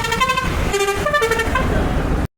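Busy road traffic, heard from a motorbike ride, fills the air with a dense engine rumble. Several car and truck horns overlap, some honking repeatedly, loud and close, with no talking.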